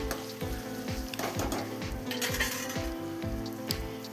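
Chopped potatoes sizzle steadily in hot oil in a pan for spicy sabudana usal, while a spoon stirs them in a regular rhythm of scraping strokes, close and fairly loud.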